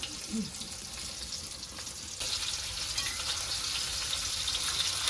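Pomfret pieces frying in a small amount of oil for a crispy Konkani-style fish fry, giving a continuous, close sizzle that grows a little louder partway through.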